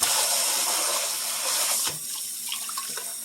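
Tap water runs into a kitchen sink to soak a dish: a steady, close hiss of flowing water that drops to a softer trickle with light splashes partway through.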